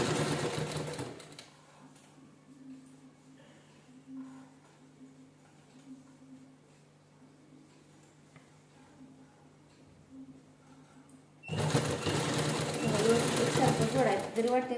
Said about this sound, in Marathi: पूर्ण याला आपण शिलाई करून घेतलेलं